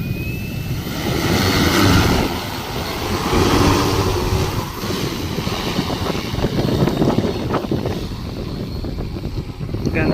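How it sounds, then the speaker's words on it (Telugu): An agricultural spraying drone's motors run loudly over a farm field near power lines, a continuous buzzing whine that swells and eases slightly, with wind noise on the microphone throughout. "డ్రోన్ స్టార్ట్ అయింది"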